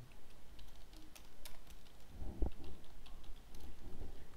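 CSS code typed on a computer keyboard, soft scattered key clicks at close range with a few heavier taps in the middle, fairly quiet overall.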